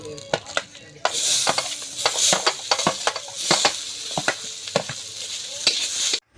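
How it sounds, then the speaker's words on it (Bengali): Oil sizzles as shrimp fry in a pan, broken by repeated sharp clinks and scrapes of a utensil stirring, close and busy. "এবারে হরিণে চিংড়ি মাছগুলো ভাজবো"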